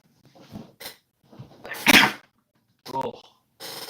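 A single loud, close sneeze bursts out among quieter bits of voice and small noises, with people talking softly before and after it during a live football watchalong.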